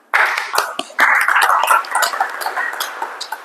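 Audience applause at a Pancasila education class session, a burst of clapping starting sharply, a second surge about a second later, then sustained clapping fading slightly toward the end.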